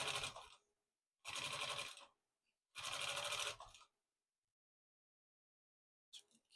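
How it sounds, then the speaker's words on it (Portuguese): A sewing machine stitching slowly along a zipper channel of a baby's toiletry bag, running in three separate bursts of about a second each with silent pauses between, then a brief final start. "vou passar uma costurinha aqui no meu canal do zíper"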